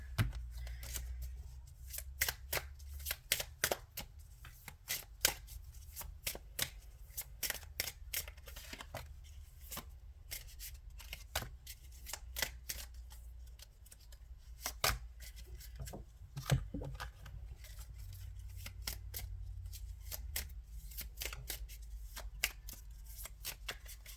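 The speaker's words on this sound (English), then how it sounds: "Just gonna shuffle and pull a bunch of cards" Rapid crisp riffling of playing cards, repeated bursts of snapping clicks over a low hum, close and fairly quiet, no voices.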